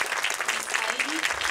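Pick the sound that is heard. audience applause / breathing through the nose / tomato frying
audience applause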